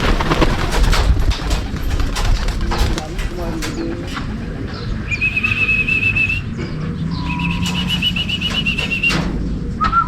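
Pigeons coo softly around a loft landing board while a person calls and whistles to them, with rustling and handling noises close by.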